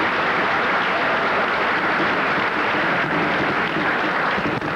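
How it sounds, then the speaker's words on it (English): A dense, steady wash of audience applause for students at a 1992 high school senior academic recognition ceremony, loud and continuous without a break. "Let's give those students a round of applause"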